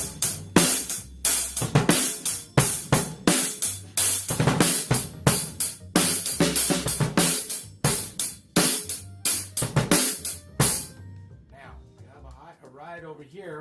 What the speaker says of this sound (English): Snare, you're going to have your hand palm down facing the ground.